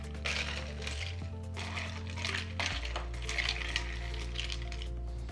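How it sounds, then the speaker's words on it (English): Mixing spoon stirring a mojito with mint and ice in a glass, producing repeated close metallic clinks and rattles of ice and spoon against glass in an uneven rhythm over a low background hum. "Now let's give each glass a little bit more of a mix with our mixing spoon."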